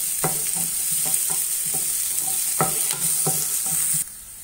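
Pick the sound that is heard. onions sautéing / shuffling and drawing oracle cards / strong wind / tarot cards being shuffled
onions sautéing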